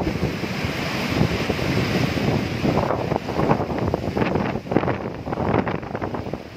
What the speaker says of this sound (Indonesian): hujan deras disertai angin kencang